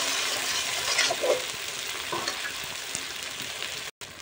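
Chopped tomato, capsicum and ginger paste fry and sizzle in a pan while being stirred, a loud steady crackling hiss with occasional scrapes of the spoon, cut by a brief dropout near the end.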